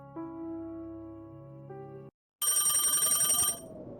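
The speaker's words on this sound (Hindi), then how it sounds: "इतनी रात को फोन कौन हो सकता है?" A telephone ringing at night in an old house in a deserted village, a steady electronic tone that shifts pitch, then a brief silence and a loud, rapidly trilling bell burst that stops abruptly.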